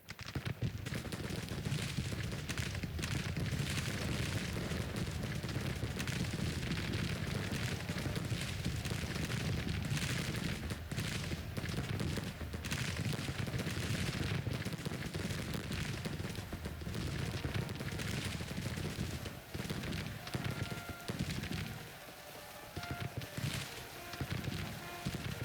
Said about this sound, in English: They had a lot of cannon in this battle.